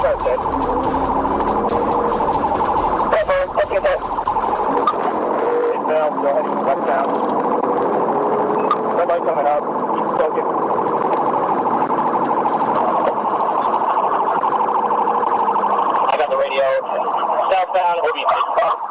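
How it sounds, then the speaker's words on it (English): A police car siren wails loud and close during a high-speed pursuit, its steady cycling tone running the whole time over road and engine noise, with a voice and radio chatter cutting in now and then. "The officer activated his emergency lights and siren in an attempt to initiate a traffic stop"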